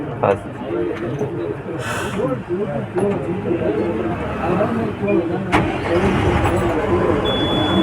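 A car with a gear indicator pulls away as its engine starts and runs at a mid pitch, loud and close, while people talk over it throughout.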